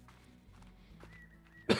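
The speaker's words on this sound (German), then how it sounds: "Aber nichts allzu Schlimmes. Nur ein bisschen Husten." A single sharp cough from someone with a mild cold bursts out near the end after a stretch of near silence, loud and close to the microphone.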